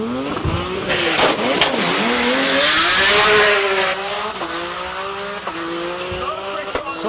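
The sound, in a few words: race car launching at Simola hillclimb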